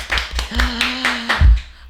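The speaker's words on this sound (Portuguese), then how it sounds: "Uma salva de palmas!" A short burst of hand clapping welcomes a guest onto a Portuguese-language talk podcast, a handful of sharp, close claps spread over under two seconds with a brief tone in between.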